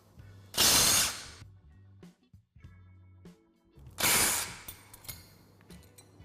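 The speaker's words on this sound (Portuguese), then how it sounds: "Vamos remover esse pequeno defletor." Tools working on a small deflector inside an automatic car gearbox during teardown, two loud bursts of ratcheting, drill-like mechanical noise separated by quieter clicks and metal handling, no speech.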